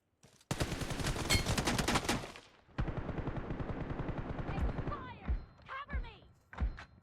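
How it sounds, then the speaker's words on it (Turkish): Rapid automatic gunfire in PUBG Mobile, loud and close: a dense sustained burst, then a second long volley, followed by scattered single shots and short bursts toward the end. "Oğlum ben oraya mermi atıyorum mermi"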